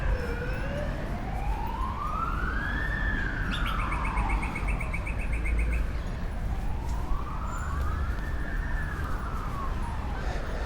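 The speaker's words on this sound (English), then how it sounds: "Comes another fire engine." An old fire engine's siren wailing through a Sydney street, rising and falling in two slow sweeps with a brief electronic yelp layered in, loud and fairly near over traffic, with birds chirping nearby.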